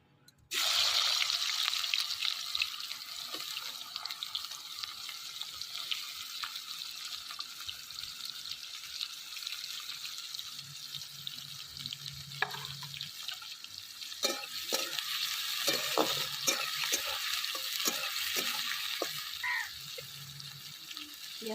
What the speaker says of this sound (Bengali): ওই তেলেই পেঁয়াজ দিয়ে দিবি